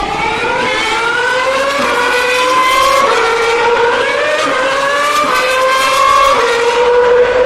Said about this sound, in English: I'll give you some proper hi-fi recording of F1 cars